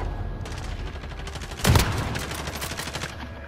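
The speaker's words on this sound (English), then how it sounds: "I turned back up with my rocket launcher." A rocket launcher fires in a video game, a single sharp blast over steady background game noise and faint scattered gunfire, close and fairly loud, with no talk.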